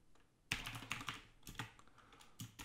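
Keys clatter on a computer keyboard as a terminal install command is typed, a close, dense run of clicks that starts abruptly and continues in quick bursts with short gaps.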